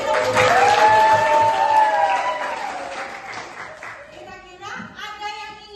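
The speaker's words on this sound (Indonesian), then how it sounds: "Beri tepuk tangan." Students in a classroom give a round of applause for a classmate's answer, clapping loudly at first while children's voices mix in, then thinning out as talk takes over.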